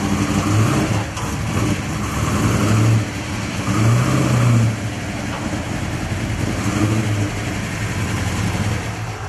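A 1971 Ford Falcon XY GTHO Phase 3 engine idles with a rough, deep rumble and is blipped several times into short, loud revs that fall back to idle, heard close up.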